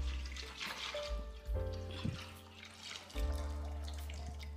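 About two litres of water poured into a cooking pot for wedding-style chicken biryani, a continuous gushing, splashing stream with a resonant ringing tone from the vessel, steady and close throughout.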